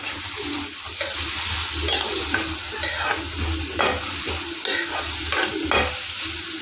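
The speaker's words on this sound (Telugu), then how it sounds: "ఈ ఉల్లిపాయలు మంచి కలర్ వచ్చేంత వరకు ఫ్రై చేసుకోవాలి." Onions and garlic fry in a pan with a steady, loud sizzle while a utensil stirs and scrapes through them in repeated strokes, no voices present.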